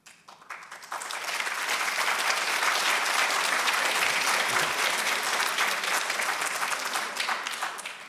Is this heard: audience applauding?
yes